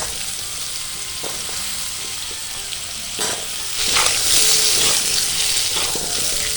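Cut potatoes dropped into hot oil with bay leaf and dried chilli for an aloo baingan curry, a steady close sizzle that swells louder and hissier partway through, with a few light clinks.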